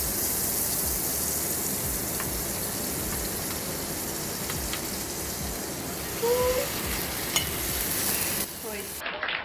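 Swiss potato rösti frying in a pan, a steady close sizzle with a brief stirring scrape partway through.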